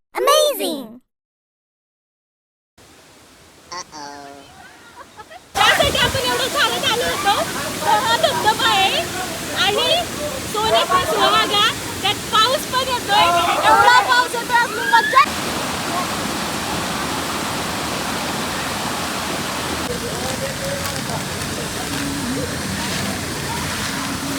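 Dhumalwadi waterfall in a lush rainy-season setting, heard as a steady broad rush of falling water that stays continuous for most of the stretch, with people talking over it near the start.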